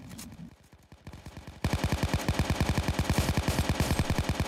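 Rapid automatic gunfire in a team video game match, sustained bursts of close, loud shots after a brief quieter stretch, no talk.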